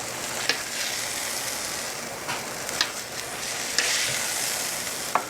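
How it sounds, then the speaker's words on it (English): Country style ribs sear in a hot pan, giving a continuous close hiss of fat with scattered sharp pops and spits. "we've had our country style ribs searing for about 3 to 4 minutes on both sides"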